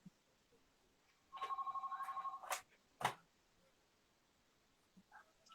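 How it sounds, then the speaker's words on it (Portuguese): A landline telephone rings indoors with a single burst of rapid, trilling bell pulses lasting about a second, followed by a couple of clunks and a quiet room. "Não, agora resolveu tocar o telefone."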